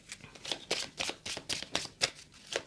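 Tarot cards are shuffled by hand in quick, crisp riffling bursts, about a dozen soft slaps in a steady rhythm, close and quiet with no talk over them.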